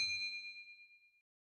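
A single bright bell chime used as a notification sound effect rings clearly and alone, then decays smoothly over about a second into silence.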